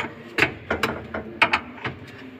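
A key tightens a part on a Charly Robot 2U engraving machine, making a series of sharp, close metallic ratcheting clicks in irregular bursts, alone without speech.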